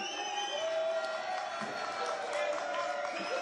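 A studio audience at a French television variety show cheers and applauds a guest singer, a steady, dense crowd roar with whoops carrying on throughout under a faint voice.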